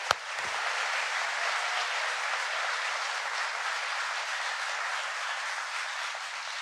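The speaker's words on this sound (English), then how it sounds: "Please give them a round of applause." A sustained wash of audience applause at a presidential speech on semiconductor jobs, beginning with a sharp thump and then holding a steady, even crowd clapping with no voices.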